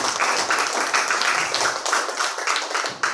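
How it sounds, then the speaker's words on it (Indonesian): Continuous applause from a small group, steady crisp hand clapping throughout with no pauses. "Tepuk tangan untuk kita semua"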